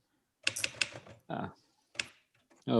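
A typewriter clacks out a quick run of keystrokes, then a few scattered strikes, separated by pauses in which people talk nearby.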